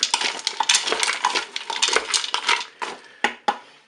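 Fried potatoes stirred in oil inside a Cookeo cooker pot: rapid scraping, clinking and crunching of a utensil against the metal bowl, busy and close, with a few sharper knocks near the end.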